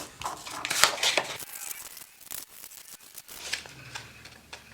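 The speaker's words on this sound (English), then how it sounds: "And then cut that out with a pair of scissors." Crisp snipping and rustling as scissors cut out a paper footprint, several quick clicks and crinkles up close, no talking.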